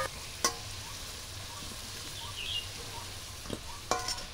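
Potatoes frying in oil with salt and turmeric, a quiet, soft sizzle broken by a few sharp clinks of a spatula against the pan.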